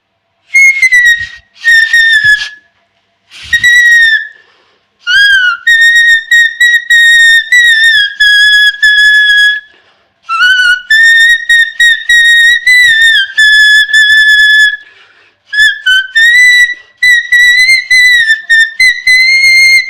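A loud, piercing whistle-like tone from a wire balanced on a rupee coin sounds in repeated bursts with warbling pitch, sustained for seconds at a time with brief pauses between.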